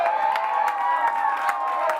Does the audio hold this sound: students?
yes